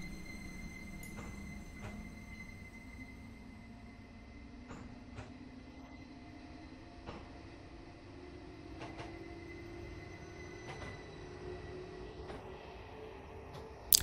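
Quiet rail rumble with a rising motor whine as an ODEG FLIRT 3 train leaves Berlin Ostbahnhof in Train Simulator 2022, occasional clicks and a sharp knock at the end.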